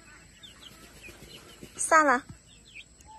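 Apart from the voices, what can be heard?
young chickens clucking and chirping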